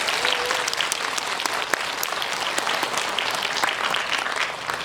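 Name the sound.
audience applause in cinema hall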